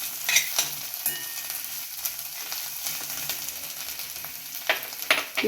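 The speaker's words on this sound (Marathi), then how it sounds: "अगदी 1 मिनिटच परतून घ्यायचे आहे." Grated carrot sautéing in a pan, a continuous soft sizzle with intermittent scraping stirs and clinks of a spatula, close up with no talk.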